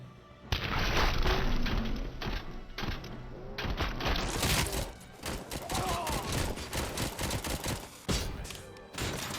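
A flashbang grenade detonating in the RoboCop Rogue City video game, amid a loud, busy stretch of gunfire-like bursts, thumps and sharp cracks with recurring impacts throughout.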